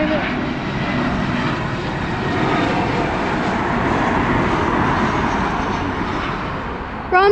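An Aer Lingus airliner passes over Dublin Airport, a loud sustained jet roar that swells and holds throughout, with people talking nearby.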